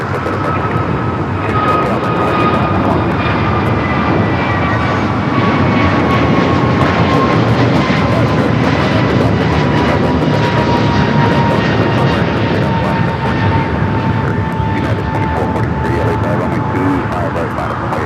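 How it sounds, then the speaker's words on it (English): Boeing 777 cargo freighter landing on the north side at LAX, heard as a loud continuous jet engine roar with a slowly falling whine throughout. Talk runs over the engine noise. "That Green Air Cargo 777 freighter landing on the north side will make its way over here to the south."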